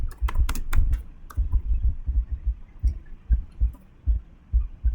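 An IP address typed on a computer keyboard during network configuration: rapid clacking keystrokes in uneven bursts, close and fairly loud, with a low thumping hum beneath and no speech.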